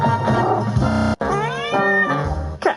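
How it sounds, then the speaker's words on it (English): Several cats meowing loudly and close in quick succession, long drawn-out wailing meows with a brief pause in the middle. "Cats."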